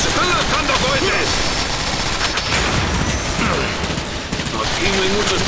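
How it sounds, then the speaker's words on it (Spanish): Rockets and rapid weapon fire in the Transformers War for Cybertron video game, a loud continuous barrage of blasts and mechanical clatter with shouted voices cutting in over the din. "¡Nos están lanzando cohetes!"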